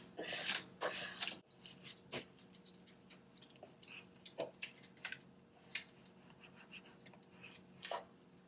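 A plastic scraper or card rasps repeatedly across a vinyl window cling pressed onto glass, giving close, uneven strokes with a louder burst of scraping at the start.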